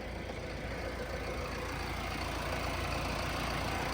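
A New Holland Novo 655 CRDI tractor engine runs steadily at close range, a continuous dense diesel rumble with no change in pace and no voices.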